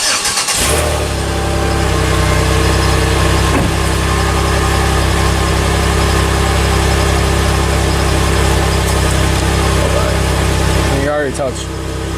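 A Chevy Impala engine idles with a newly fitted muffler, a steady low rumble held close and even throughout, with a brief shift in tone near the end.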